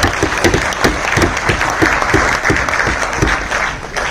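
Steady applause from a sizable crowd at a university ceremony honouring journalists, dense continuous clapping that holds at an even level throughout.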